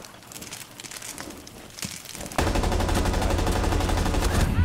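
Rapid gunfire erupts in the Rainbow Six Siege video game: scattered faint shots at first, then a loud, sustained burst of automatic fire for the final two seconds.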